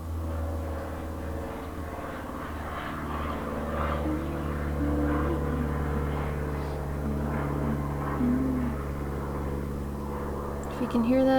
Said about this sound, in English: If you can hear that, that is a helicopter.